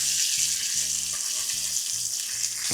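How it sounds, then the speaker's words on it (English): Strips of bacon sizzle and spit in a hot pan, a dense, steady crackle of grease filling the sound close up, with a faint low rhythmic thumping underneath and no voices. "Let that bacon cook in there real good"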